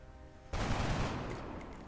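A soldier fires from a doorway in XCOM: Enemy Within, a sudden loud burst of gunfire that cuts in after a quiet start and rattles on with a ringing, slowly fading tail.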